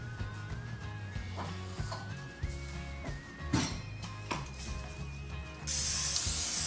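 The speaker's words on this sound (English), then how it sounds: "I wanna spray it again with some Pam." Pam cooking spray hisses into a tin pan as a short, steady spray near the end, following quieter kitchen clatter and faint mechanical clicks.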